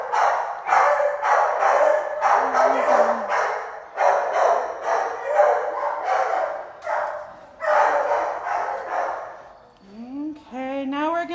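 Several shelter dogs bark in rapid bursts, close and loud, the barking nearly continuous with short pauses and a whining yelp near the end.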